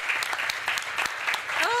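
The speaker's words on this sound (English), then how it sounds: "give a big round of applause." Audience at a tribunal breaking into applause, a dense crowd of clapping hands with voices talking over it and a brief rising exclamation near the end.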